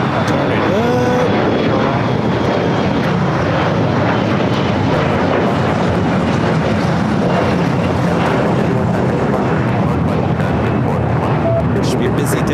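A Boeing 747 begins its takeoff roll on runway 25 Left at Los Angeles International Airport, a loud continuous roar of jet engines building and rumbling close by, with talking at times.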